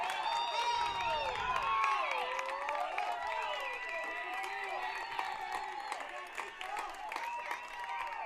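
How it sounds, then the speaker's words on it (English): Heber Springs baseball fans cheer at a game, a dense crowd of overlapping shouts, whoops and clapping that holds steady throughout. "You can hear the Heber Springs fans cheering"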